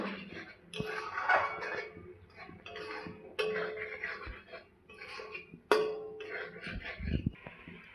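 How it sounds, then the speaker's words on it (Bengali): Fried potatoes and pointed gourd are stirred with spices in a pan, producing quiet, irregular scrapes and a few sharper metallic clinks against the pan, close by. "এখন ভেজে রাখা আলু আর পটল দিয়ে দিচ্ছি মশলার সঙ্গে ভালো করে একটু কষিয়ে নেব"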